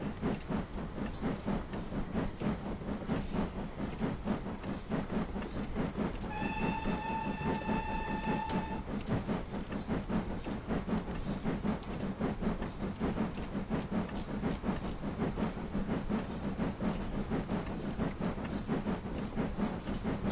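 A model NER express steam locomotive runs along the track with a steady, rapid chuffing rhythm throughout, and a whistle sounds for about two seconds partway through, all at a constant moderate level.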